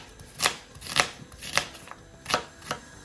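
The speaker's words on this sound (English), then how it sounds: "I'm just going to thinly slice one onion." Knife thinly slicing onions on a cutting board, five crisp cuts in an uneven rhythm, close and fairly quiet, with no talking.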